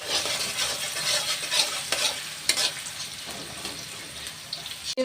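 Onions with a few cumin seeds fry in hot oil in a wok, a soft sizzle under repeated scraping and clinking of a spatula stirring them, close and moderately loud.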